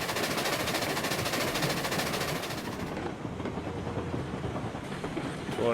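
A Lima steam locomotive in RailRoads Online runs along the line, rapid rhythmic chuffing and clattering loud at first, then easing to a lighter rumble with faint rail clicks.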